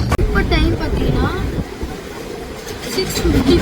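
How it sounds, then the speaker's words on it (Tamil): Steady, loud rumble of a train in Chennai fills the whole stretch with a continuous rolling roar and a faint rhythmic clatter, with no clear words over it. "என் வாய்ஸ் சரியாக கேட்காது, ஏன்னா அங்கே ட்ரெயின் சத்தம் அப்படி"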